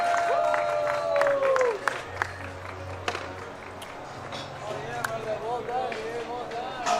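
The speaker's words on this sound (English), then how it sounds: "Big round of applause for our winners here tonight." A crowd at the Dew Tour 2022 street skateboarding final claps and cheers in bursts under a close announcer's voice, with scattered sharp taps and a whistle-like tone early on.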